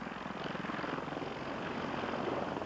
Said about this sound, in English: The Marines moved in on the beach with helicopter support from their CH-46s, UH-1s, and CH-53s